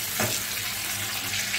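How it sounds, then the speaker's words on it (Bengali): Whole cumin seeds frying in hot oil in a pan, a dense steady sizzle that runs close and alone for the whole moment. "ভালো করে জিরেটাকে কিন্তু ভেজে নিতে হবে।"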